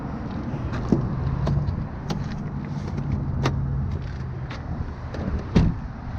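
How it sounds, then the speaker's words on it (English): A Ford F-150 pickup with a 5.4-liter 3-valve engine has its hood popped open, giving a few sharp clicks and clunks from the latch and handle over a quiet background. One louder knock comes near the start and another near the end. "let me pop the hood so you guys can see what I'm talking about"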